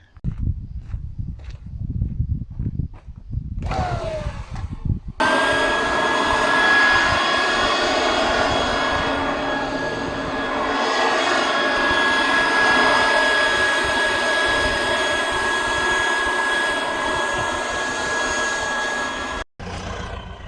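Compressed air roars steadily for about fifteen seconds, blasting dust out of a McCormick tractor's condenser. A few seconds of lower rumbling and handling noise lead in before the loud, constant blowing starts, then it cuts off abruptly near the end.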